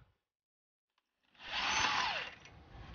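A power tool undoes the center bolt of a VW Golf drive shaft during outer CV joint work. After a quiet start, a loud, steady whirring burst begins partway in and holds to the end, close up.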